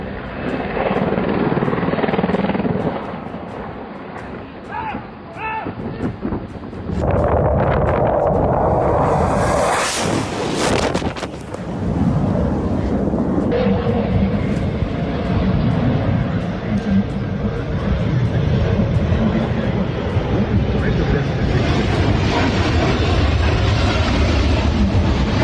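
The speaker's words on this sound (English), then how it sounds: "This is commercial aircraft." Commercial aircraft in flight losing stability during a steep climb over the Gulf of Finland, a loud continuous engine and airframe roar throughout with a sharp surge near the middle, and voices faintly underneath.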